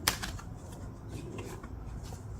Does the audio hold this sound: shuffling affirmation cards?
yes